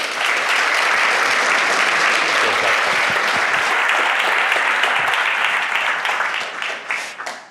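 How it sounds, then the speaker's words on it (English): An audience at a talk event breaks into loud, dense applause, many hands clapping together in a steady roar that holds for several seconds and then thins out and tapers away. "So please give a warm round of applause for Ben."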